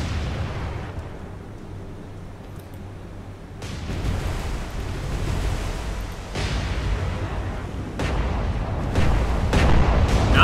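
Naval cannon broadside in the War on the Sea video game, a rolling series of heavy booms rippling across a warship's side, loud and dense, building toward the end with sharp bursts over constant low rumble.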